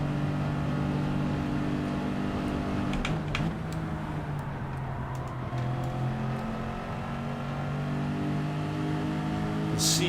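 Race car lapping a track in Gran Turismo 7, a continuous engine drone with shifting pitch as it revs and eases, steady and fairly close throughout with no talk.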